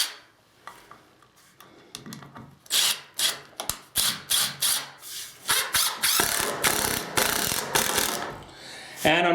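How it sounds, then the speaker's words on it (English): Ridgid 18V drill driver with no torque setting driving screws into wood, a series of short, loud whirring bursts with ratcheting clatter, close up, speeding into longer runs toward the end. "we'll take our screws and we'll give them a drive in"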